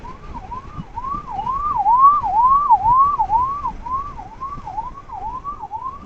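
A wailing ambulance siren sweeps up and down in a steady repeating cycle, loud and fairly close, heard from a motorcycle on the road between Madanapalle and Horsley Hills, with no talking.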